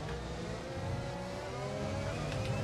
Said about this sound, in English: Straight line speed, Honda engine using its legs.